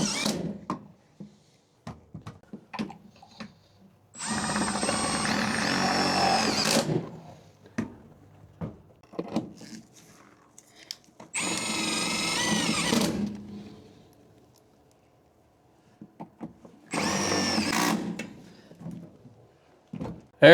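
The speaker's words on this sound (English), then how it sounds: "I'm going to screw them with some sheet metal screws, self-tappers, right here to the bottom of the cab" A power drill drives self-tapping sheet metal screws into the bottom of an old Ford F-100 cab. Three separate loud whirring bursts of about two seconds each are broken up by quiet gaps with small clicks and handling noises.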